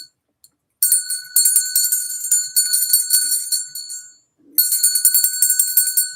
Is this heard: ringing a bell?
yes